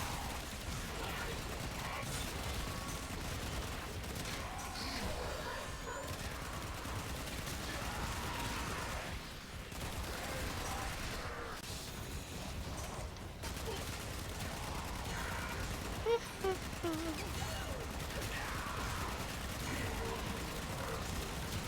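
Sustained pistol fire in the shooter game Warframe, a dense continuous stream of rapid shots and impact noise at moderate level, with a player talking over it.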